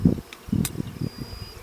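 Honey bees buzz in low, uneven bursts around a beehive, close and moderately loud, with short pulses of wingbeat hum rising and fading.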